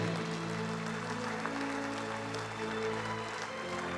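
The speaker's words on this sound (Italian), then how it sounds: "Un applauso!" Audience applause for student athletes at an Italian sports event, a steady, moderately faint clapping texture over a humming hall background.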